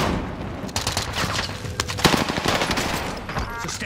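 Video game gunfire erupts in rapid bursts, sharp cracks and automatic fire layered over one another in a dense, loud barrage with a brief voice underneath.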